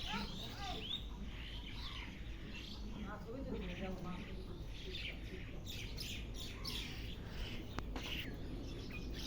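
Pigeons call softly in the distance under quiet outdoor ambience, with scattered chirps and a low voice murmuring in the background.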